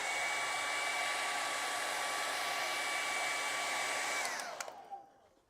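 A hair dryer blows steadily and close with a strong, even whoosh and whine while drying acrylic paint, then switches off and winds down to quiet near the end.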